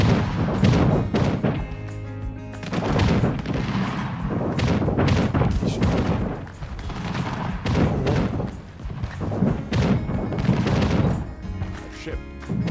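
Heavy thuds, booms and crashes roll through a harbor attack in Anno 1800 as a ship is destroyed, with repeated impacts and scattered gunfire mixed with game music and clamor.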